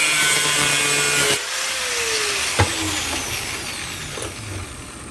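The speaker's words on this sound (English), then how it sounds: "make little notches in the middle of those sections you just cut" A broadband grinding cut as a power tool bites into metal, cutting notches for a rocket motor, runs steadily for a few seconds and then drops to a quieter whir with brief scraping.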